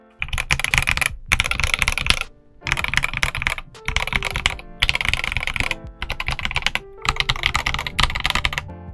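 Yunzii YZ75 Pro mechanical keyboard being typed on in steady, rapid bursts of clicky keystrokes, close and clear, separated by short pauses, with no talking.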